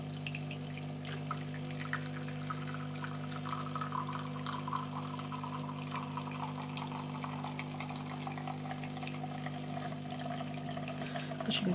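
A Beko CEG7425B bean-to-cup coffee machine dispensing coffee, a steady close pouring and pumping flow with a constant low mechanical hum throughout.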